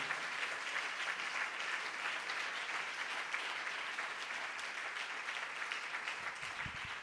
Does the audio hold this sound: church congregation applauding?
yes